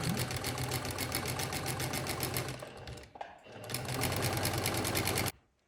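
Domestic sewing machine stitching flange binding on a quilt edge, a fast even mechanical whir running continuously, briefly pausing midway before resuming, then stopping abruptly; someone talks over part of it.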